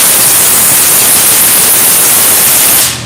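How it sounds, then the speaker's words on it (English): Compressed air blasts through a powder coating gun as a loud, continuous broadband hiss, close and steady for about three seconds before cutting off abruptly. "And I just use air, blow everything out."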